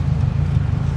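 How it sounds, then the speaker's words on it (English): A car engine, one that earlier kept stalling when dropping from about 3,000 rpm, now settles into a steady low idle, a continuous close rumble running evenly throughout with no talking. "It's holding idle now"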